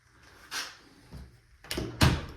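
A closet door in a house being inspected for renovation is moved open or shut, giving a few close soft knocks and thuds, the last one loudest, with no talk over them.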